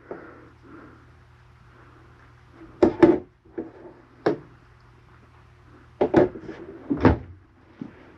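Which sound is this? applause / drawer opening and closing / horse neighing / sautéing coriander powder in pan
drawer opening and closing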